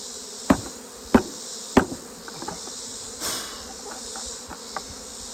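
Bees hum in a steady buzzing drone, broken by a few sharp knocks and bumps near the start.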